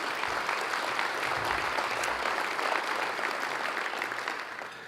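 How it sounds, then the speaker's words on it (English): Sustained applause from an audience at a city's State of the City address, a dense steady wash of clapping that carries on for several seconds before easing slightly at the end. "a big round of applause for all of you that were able to do that"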